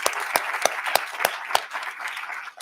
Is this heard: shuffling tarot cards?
no